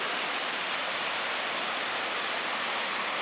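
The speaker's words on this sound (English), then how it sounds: "Just a nice view of the creek." Creek water rushing steadily through a winter forest hollow with hemlocks along the banks, a close, even broadband wash with no breaks and no voices.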